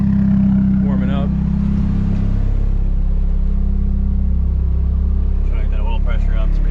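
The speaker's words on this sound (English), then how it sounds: "we got the drift car out here idling, warming up" A drift car engine idles steadily while warming up in cold weather, a deep, continuous low rumble, close by, with faint voices in the background.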